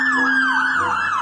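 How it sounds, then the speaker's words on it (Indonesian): A toy fire truck siren wails in loud, close electronic sweeps, the pitch rising and falling steadily about three times with no talking. "Ini namanya truk pemadam kebakaran ya teman-teman."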